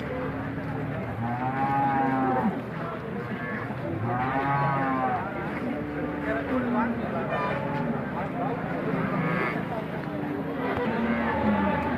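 Dairy cows moo repeatedly at a livestock market in Alephata, their long drawn calls rising and falling close by over constant crowd chatter, people talking and distant traffic.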